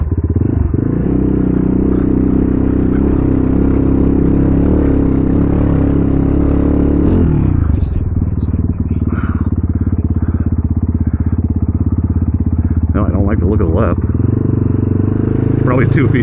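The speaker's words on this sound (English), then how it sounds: "That's what's annoying, is listening to this exhaust." A motorcycle engine drones steadily at close range while riding through snow, its exhaust rumbling loud and continuous, with a shift in pitch partway through and brief voices.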